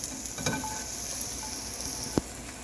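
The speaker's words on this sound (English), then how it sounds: "Now I'm going to add the cabbage." Chopped cabbage frying in a hot pan for low-sodium egg rolls gives a steady, soft sizzle throughout, with a few light clicks and one sharp tap near the end.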